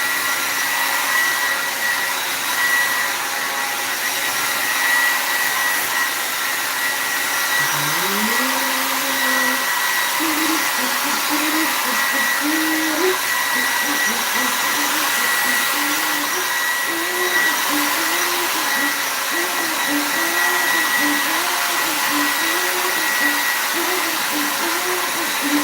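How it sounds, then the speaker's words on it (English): A hair steamer runs with a loud, steady airy roar throughout, while a faint wavering hum rises and falls beneath it. "Let's get this hair steamed."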